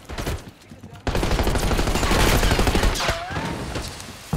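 Sustained automatic gunfire in a Black Ops 6 match, a loud continuous burst of rapid shots after a brief quieter opening, with no talk over it.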